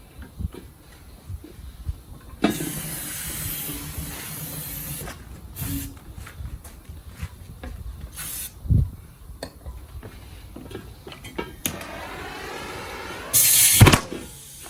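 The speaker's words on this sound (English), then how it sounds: "a little spray brake cleaner. Jump on the inside and light this up." Hissing bursts of aerosol brake cleaner sprayed inside a tire, several short blasts separated by quiet gaps, then a brief whooshing flare as it is ignited.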